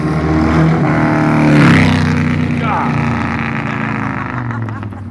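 A 1998 Harley-Davidson Sportster 1200S with drag pipes roars past nearby, its loud engine note swelling and then fading as it rides away.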